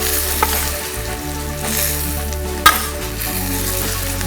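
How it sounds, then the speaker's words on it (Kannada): Spice powder and grated coconut roast in a pan with steady, close sizzling and stirring scrapes, plus a sharp clack midway. No one speaks. "3 ಚಮಚ ಪುಡಿ ಹಾಕಿ ಚೆನ್ನಾಗೆ ಬಾಡಿಸ್ಕೊಳ್ಳೋಣ"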